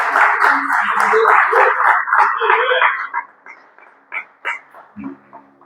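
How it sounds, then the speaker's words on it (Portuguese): A church congregation claps together in a dense, loud burst for about three seconds, then the applause fades and a single voice speaks with a few scattered claps. "aplauda o nome de Jesus"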